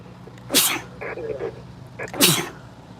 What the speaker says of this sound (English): Uh-oh, and I'm going to sneeze.